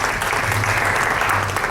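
Audience at a literary club gathering in Port Said clapping in a steady, close, moderately loud burst of applause, with a low hum underneath and no talking.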